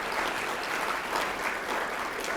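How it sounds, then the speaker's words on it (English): An audience at a cyber conference keynote event applauds steadily, a dense even wash of clapping that holds at a constant moderate level throughout without voices over it. "thank you for that warm welcome and nice round of applause"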